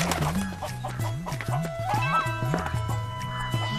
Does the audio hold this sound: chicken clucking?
yes